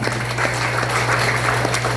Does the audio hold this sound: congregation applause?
yes